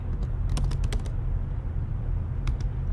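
Typing on a computer keyboard: a quick run of clicky keystrokes, then a pause and a couple more taps near the end, close to the microphone over a low steady hum.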